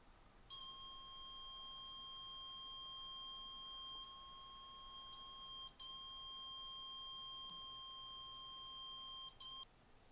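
A faint, steady high-pitched electronic tone comes from an electrolysis hair-removal probe from a cheap home kit. It holds for about nine seconds, with brief pitch shifts and dropouts as the probe touches and leaves the skin, over low background hiss.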